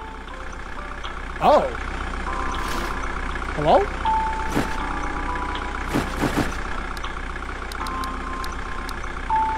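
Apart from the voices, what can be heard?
truck engine idling, from the video game The Closing Shift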